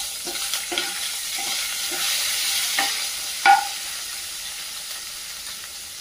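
Curry leaves frying in hot oil with garlic, green chillies and masala for a raw mango kadhi, a constant sizzle and hiss with soft stirring scrapes and one sharp crackle partway through.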